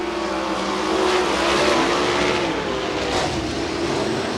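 Sprint cars racing wheel to wheel at Benton County Speedway give a loud, continuous engine roar that swells and fades slightly as the pack passes close by, with no voices heard.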